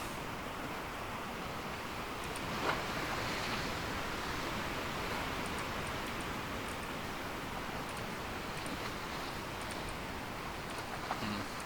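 Steady ocean waves and surf from the sailing game Sailwind on open water, a continuous broadband wash with wind-like hiss that holds at an even level throughout, with no talk.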